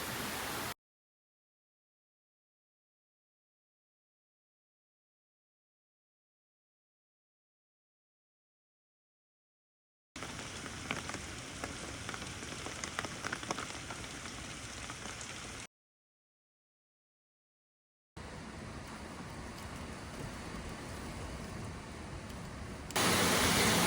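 Heavy rain falls during Hurricane Milton as a dense, steady wash of noise in two stretches of several seconds each, separated by silent gaps, with a louder burst at the end.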